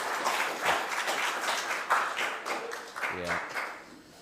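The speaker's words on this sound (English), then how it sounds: "Rose, give a round of applause." Audience applause for a woman after she shares her personal story at a gathering, a broad wash of clapping throughout with some voices mixed in and a brief low sound near the end.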